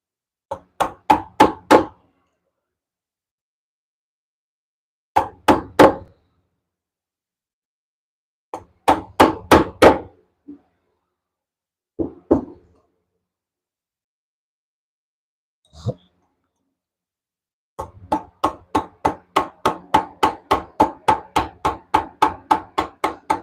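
Chisel work on wood struck with a hammer or mallet, rapid bursts of sharp knocks in clusters separated by silent pauses, ending in a long, fast run of blows.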